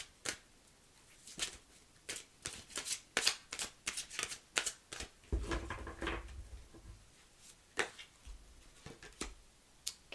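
Tarot cards are shuffled and handled close by, with soft riffling flicks and taps in irregular bursts against a quiet background.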